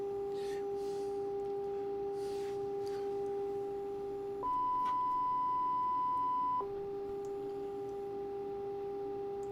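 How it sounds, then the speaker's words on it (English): A steady signal-generator tone received on a 1964 Roberts R-300 AM radio, a continuous pure beep that briefly jumps to a higher pitch before dropping back, clear and alone over faint hiss. "So the signal generator is working."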